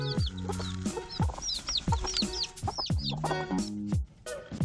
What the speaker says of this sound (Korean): 암탉들은 마치 듀엣으로 노래를 부르듯 서로 장단을 맞춰가며 흥겹게 소리를 지르고 있다